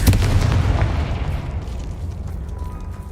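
A loud boom from a Confringo spell in a wizard video game bursts at the start, then its rumbling tail fades away over a few seconds.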